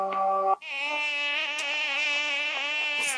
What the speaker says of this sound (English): Stupid mosquitoes.